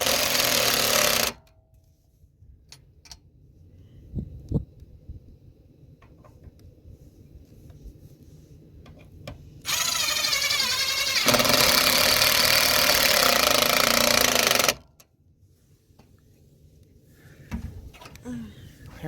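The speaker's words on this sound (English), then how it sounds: "Drill's right here." A power drill drives screws into a camper box being attached to an old trailer frame, with one short whirring burst at the start and a longer, louder burst midway, separated by quiet stretches with scattered knocks.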